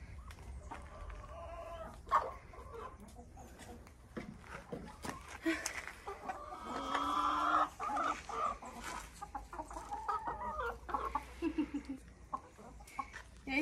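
Backyard hens cluck and squawk nearby in irregular, overlapping bursts, some sharp and loud, with a low voice faintly underneath.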